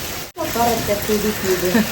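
Heavy rain falls in a village, a steady close hiss of drops with voices talking over it throughout after a brief dropout.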